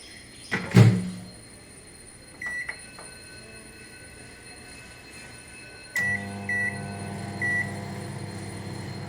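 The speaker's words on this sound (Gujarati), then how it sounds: "મારી પાસે માઇક્રોવેવ છે તો આ રીતે હું મૂકી દઉં છું" A microwave oven roasting peanuts: the door opens with a clunk, a couple of short beeps sound as it is set, then the door shuts and the oven hums and beeps a few more times over a low steady background.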